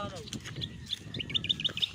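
A small bird chirps in quick, high, bright tweets that grow denser toward the end, heard close up over a murmur of nearby voices.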